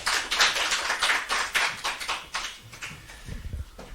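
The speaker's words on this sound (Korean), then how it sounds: "뜨거운 박수로 부탁합니다" Audience applause for a speaker at a church presentation comes as a run of strong, regular clapping bursts that thin out and fade over a few seconds, ending with a few scattered low thumps.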